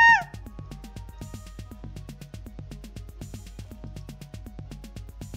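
Cartoonish cat meows from the Roblox game Kitty repeat rapidly and steadily, a quick train of short, bright mews running continuously at moderate loudness with no talking.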